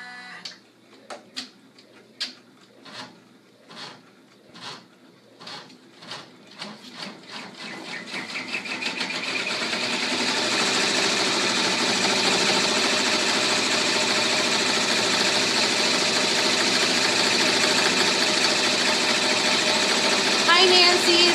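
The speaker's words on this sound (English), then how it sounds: "this is going to do a triple stitch to secure them." An embroidery machine sews a triple stitch through two layers of fabric, starting with spaced, separate needle strokes that speed up into a fast, steady mechanical chatter, loud and close.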